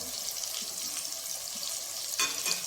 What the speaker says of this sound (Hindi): तो अब हम प्याज को सबसे पहले फ्राई कर लेते हैं इस तरह।